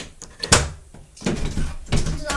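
A door in holiday lodging on the Isle of Wight is unlocked and pushed open: a few sharp knocks and a thunk of the latch and frame, spread over a couple of seconds, close and fairly loud.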